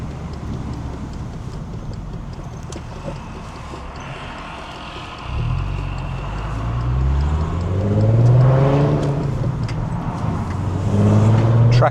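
A VW Scirocco fitted with an R32 engine idles with a low rumble, then revs up and settles several times, growing louder and throatier in the later part.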